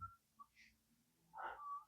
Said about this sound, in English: Whistling. You can probably hear that.